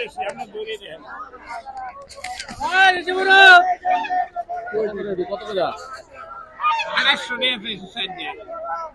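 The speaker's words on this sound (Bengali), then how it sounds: "এই যে কাকা কিন্তু হাঁস বিক্রি করতেছে, দেশি হাঁস।" Domestic ducks for sale at a stall in Dhaka's Meradia haat give loud, harsh honking calls in short bursts, close by, while people talk over the market bustle.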